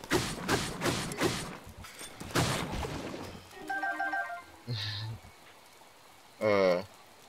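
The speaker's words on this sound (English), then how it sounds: "It's so fucking rainy." Rain pattering steadily in The Legend of Zelda: Breath of the Wild, a dense wash of drops for the first few seconds, then quieter under short chiming game tones.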